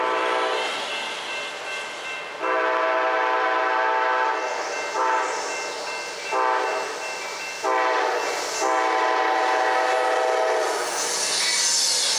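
The Amtrak Crescent passenger train passes near Mableton, Georgia, sounding a loud sequence of long and short horn blasts over rumbling wheels and rail clatter close by.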